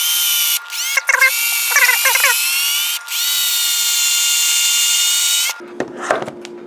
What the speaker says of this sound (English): you're going to want to drill this out so that it spins freely on this 1/8 inch shaft